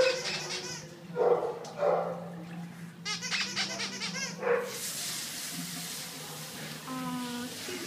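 Pug at an animal shelter yipping and barking in short bursts, then whimpering in high thin whines, close by amid kennel noise with a person talking over it.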